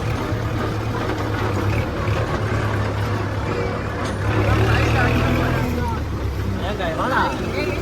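A tractor fitted with a Lemken rotavator drives off, its engine a low, steady rumbling drone up close, with voices talking over it throughout.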